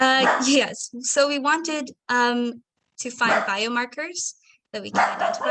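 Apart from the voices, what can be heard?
dog barking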